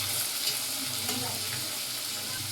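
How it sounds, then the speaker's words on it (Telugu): Onions frying in a pan with mustard seeds while Maggi noodles are prepared, a steady, even sizzle with faint stirring, close and continuous, no voices over it. "అన్నీ మిక్స్ చేసి ఫ్రై చేసుకోవాలి"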